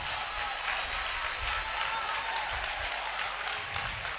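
A church congregation claps and cheers for Jesus, a sustained burst of dense applause with faint voices mixed in, steady for several seconds.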